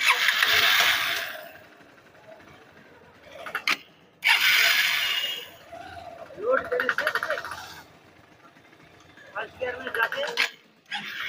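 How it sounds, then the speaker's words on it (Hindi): A Honda CB Hornet 160 motorcycle engine revs in bursts with a rapid ticking knock, idling between, while someone speaks nearby. "इसमें आपका जो समस्या आई है इंजन में कट कट साउंड आ रहा है"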